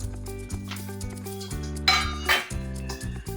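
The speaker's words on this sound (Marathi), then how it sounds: "ही प्लेट आहे ना अशी एकदम सपाट घ्यायची आणि असं दाबलं ना पटकन वडा होतो आपला बघा" A flat steel plate clinks and knocks a few times as it presses vada dough flat, with brief metallic taps heard over steady background music.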